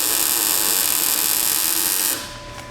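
A MIG welder lays a bead on a car's quarter panel, a steady, loud crackling buzz that runs unbroken for about two seconds before cutting out, leaving a quieter tail.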